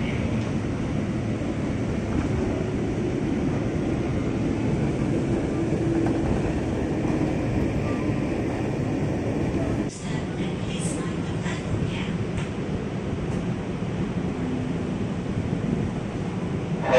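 A JR East 203 commuter train rolls into Cikini station with a steady, loud rumble of wheels and motors heard from inside, joined partway through by a few brief squeals and clanks as it slows.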